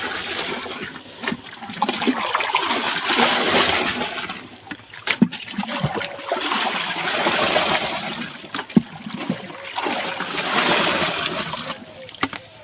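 Water splashing and sloshing in tubs as rice seed, two quintals of paddy, is soaked for a seedbed, broadband splashes rising and falling in waves with a few sharp knocks.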